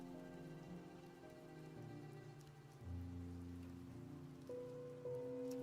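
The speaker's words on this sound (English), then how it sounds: "Enjoy the rain." Steady, quiet rainfall hisses evenly on a surface for several seconds under soft, sustained musical tones that shift in pitch, with no speech.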